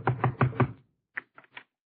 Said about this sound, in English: Come on, I'll knock on the door.